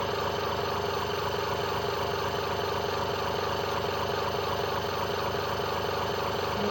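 A modified brushless DC motor rig in a looped self-charging setup runs at idle, giving a steady, dense mechanical drone with a fast rhythmic chatter, constant in level and close, with no talk.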